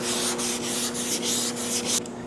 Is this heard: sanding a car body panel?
yes